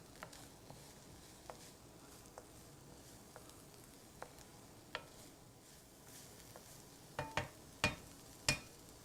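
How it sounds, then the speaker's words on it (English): Quiet sizzling of garlic, onion and vegetables in a pan under soft background noise, with scattered clicks and a few louder scrapes or taps toward the end. "You'll start to hear these sizzling up"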